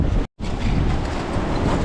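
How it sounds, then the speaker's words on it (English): Strong wind in an Alaska windstorm buffets the microphone with a loud, constant roaring rush, broken by one brief dropout before the gusting resumes. "It's just so windy."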